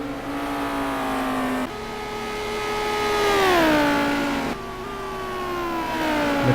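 A McLaren GT race car in a sim racing game at Spa, its engine note climbing and falling through gear changes in a steady, loud whine with layered harmonics, with no voices over it.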